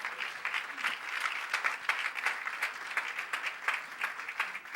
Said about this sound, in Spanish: De ese aplauso de alabanza al Señor.